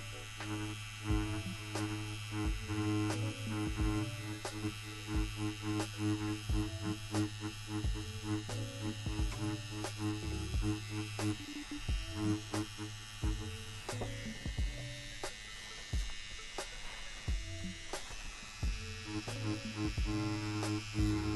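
A tattoo machine hums and buzzes continuously while lightly shading tones into skin for a realism tattoo, a steady close electric drone with brief clicks and pauses in its rhythm throughout.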